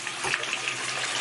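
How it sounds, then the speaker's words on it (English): Hot water gushing steadily from a tap into a 5-gallon bucket during off-grid clothes washing, a brief, even pouring rush with no voices. "got some hot water going in there now, and I'm just gonna fill this up"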